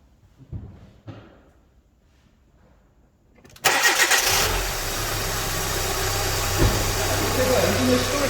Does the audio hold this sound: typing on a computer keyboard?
no